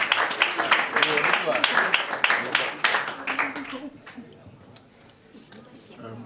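Applause from an audience at a herbal medicine research awards launch, dense clapping for about four seconds with voices mixed in, then tapering off into scattered claps and room murmur.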